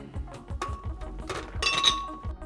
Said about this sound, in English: We're gonna start with some ice cubes.